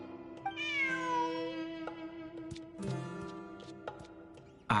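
A cat meows in the video game Genshin Impact, a drawn-out rising and falling call followed by shorter mews and a few sharp clicks, close and clear with no talking.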